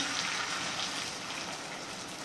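A continuous loud sizzle and hiss runs throughout as blended coconut-milk curry sauce is poured into a hot pan, broad and steady with no talking.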